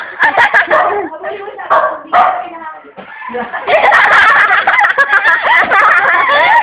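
A dog yips and barks excitedly in quick bursts, mixed with people talking nearby.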